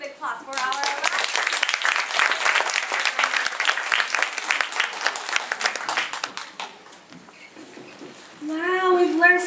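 Audience applause at a speech night, with a burst of clapping that thins out and fades before a voice begins talking.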